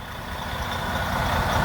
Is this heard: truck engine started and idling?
yes